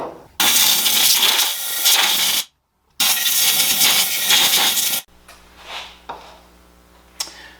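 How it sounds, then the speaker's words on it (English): A shop air compressor nozzle blasts air into an emptied lawn mower gas tank from a Scotts push mower, with two loud, steady hissing bursts separated by a short pause, then fading to quieter, intermittent puffs and small clicks. "I'm going to go over to the air compressor and I'm just going to blow out the rest of it"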